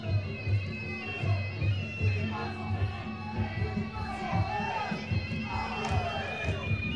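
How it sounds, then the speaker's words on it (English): Crowd noise at a fight between Toby Smith and Johane Beausejour, a steady roar of cheering and shouting from the stands that runs loud and continuous for the whole stretch, with no clear words standing out. "The crowd are absolutely loving it, Jake."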